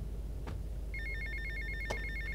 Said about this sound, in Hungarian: Á, megint telefon, hihetetlen